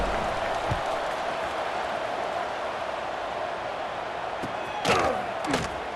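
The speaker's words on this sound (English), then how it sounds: "this crowd is buzzing after that last score" Stadium crowd noise from the college football video game College Football 26, a dense steady roar of many voices and applause after a score, with a few thuds and sharp clatters near the end.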